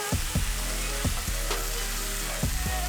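Onions and peppers frying in a hot pan for pork sisig, a loud continuous sizzle broken by several sharp scraping stirs of a utensil against the pan.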